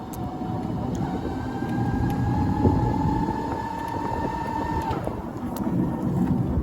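Twin-motor Sinclair C5 electric trike accelerating under throttle on a road, a steady rising motor whine carried over heavy wind rumble, fairly loud and continuous, with no voices.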